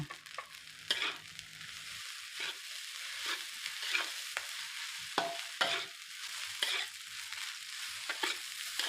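Egg fried rice stir-fried in a pan with a steady sizzle, broken by repeated scraping and tossing strokes of a spatula against the pan, close and fairly loud, with no talking.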